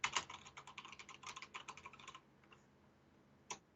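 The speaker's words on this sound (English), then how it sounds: "here's a sample of me typing" Quick clicking keystrokes on a computer keyboard in a rapid irregular burst, close and crisp, that trails off into a pause before one last isolated key tap.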